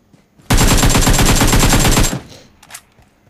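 Gunfire from PUBG Mobile: one loud, sustained automatic burst of rapid shots lasting under two seconds, followed by a fainter shot or echo.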